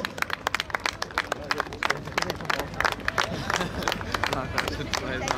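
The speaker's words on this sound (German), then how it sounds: "Applaus hier für die Jungs." Crowd claps at an outdoor tractor pulling event with 6.5-tonne standard and vintage tractors, sharp irregular hand claps near and dense over steady crowd murmur and background chatter.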